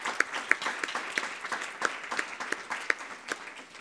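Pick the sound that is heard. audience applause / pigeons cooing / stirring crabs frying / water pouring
audience applause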